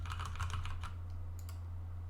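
Computer keyboard typing during work on a React Native password vault app, a quick burst of close, loud keystrokes over a steady low hum that stops partway through, leaving only the hum.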